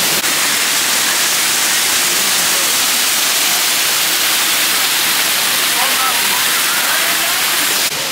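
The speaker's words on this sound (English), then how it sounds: "the waterfall here, way more impressive than the last one" Powerful waterfall in Bali roaring as a loud, steady broadband rush of falling water, continuous and close for the whole stretch with no talk over it.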